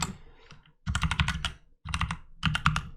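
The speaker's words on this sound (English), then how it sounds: "So let's go ahead and type that in." Bursts of rapid typing on a computer keyboard while entering package names in a code editor, three distinct clusters of close, crisp key clicks separated by short pauses.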